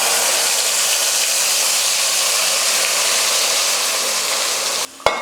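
Steady loud sizzling and hissing of ground masala paste frying in hot oil, continuous throughout, ending with a brief clunk.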